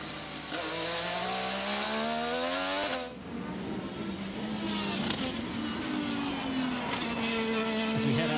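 Pato O'Ward's IndyCar race car screams through a qualifying lap at Laguna Seca, a high whining engine note that rises and falls through gear changes, dips briefly, then climbs again, loud and continuous.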